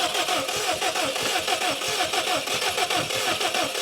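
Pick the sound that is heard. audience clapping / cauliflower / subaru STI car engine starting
subaru STI car engine starting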